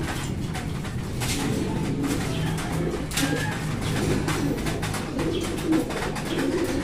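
Racing pigeons coo in a loft during natural pairing, soft low throaty calls repeating close by over a continuous background of rustling and faint clatter.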